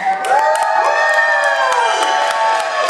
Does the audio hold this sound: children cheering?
yes